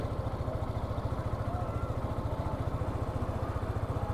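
On the sandy beach at Cox's Bazar, a motorcycle engine chugs along in a fast, even, low-pitched pulse, close and fairly loud, holding steady without a break.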